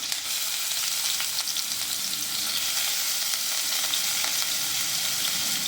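Ginger, garlic and onion fry in a hot pan, a dense continuous sizzle with faint stirring scrapes, close and steady, with no talking.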